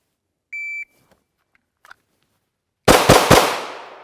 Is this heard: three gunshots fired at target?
yes